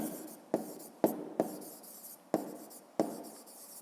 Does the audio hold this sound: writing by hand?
yes